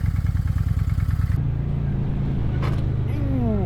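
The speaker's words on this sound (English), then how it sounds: "Nice throaty rumble" A 2024 Honda Shadow Phantom cruiser motorcycle's engine rumbles steadily and loud up close, a deep throaty pulsing idle that smooths into a sustained drone, with a brief scraping clatter partway through and a faint whine near the end.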